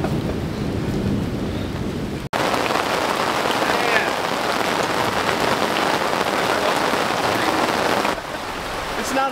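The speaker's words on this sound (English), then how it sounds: "It's literally pouring rain." Heavy rain pours down steadily at a campsite in the Ozarks, a dense close roar of drops hammering a surface with no letup, briefly cut off once near the start.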